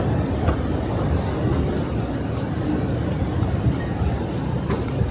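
Steady low rumble of an underground train station, with a continuous droning hum and faint clanks; no clear voices.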